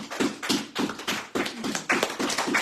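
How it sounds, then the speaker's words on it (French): A church congregation claps in unison after a scripture reading, sharp rhythmic beats roughly twice per second, close and even, about five or six claps in a row with no talk over them. "Nous applaudissons la parole de Dieu."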